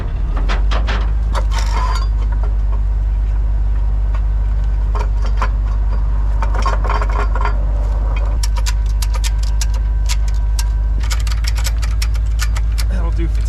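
A Chevrolet C30 wrecker tow truck's engine runs at a steady low drone throughout, with scattered metallic clanks and rattles of chains or gear over it, fairly close and continuous.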